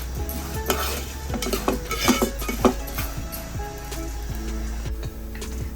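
Lentils shallow frying over a low gas flame in a pan, with a spoon scraping and clinking against the metal in irregular strokes over a soft background sizzle; no voices.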